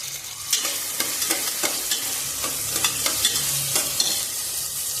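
Onion and tomato fry in a pan under a soft continuous sizzle, broken by a regular series of sharp scraping stir strokes from a spoon, close and without any talking.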